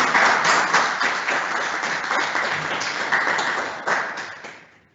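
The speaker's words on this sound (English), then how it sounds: "just a round of applause." Audience applause closing a forum session on food production and food waste upcycling, a steady dense wash of many hands clapping that fades out toward the end.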